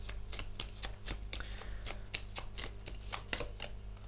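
A deck of cards is shuffled close up, a quick run of crisp riffling slaps and flicks repeating in a steady rhythm, quiet and alone.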